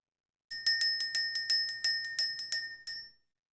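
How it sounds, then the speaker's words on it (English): A small bright bell is rung in a quick series of about a dozen clear metallic dings, evenly spaced and close, ringing alone in an otherwise quiet space. "Let's ring the bell."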